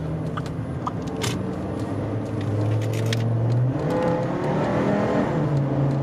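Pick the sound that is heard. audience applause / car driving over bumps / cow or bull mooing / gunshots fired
car driving over bumps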